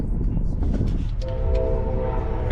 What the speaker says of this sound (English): There's trains in the background, sorry.